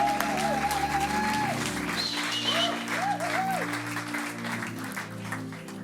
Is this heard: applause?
yes